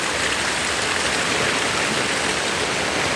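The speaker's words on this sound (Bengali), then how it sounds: "আল্লাহর রহমতে এবার খুব ভালো বৃষ্টি হচ্ছে" Steady, dense rain falls continuously and loudly on a rainy day, a broad unbroken hiss without pauses.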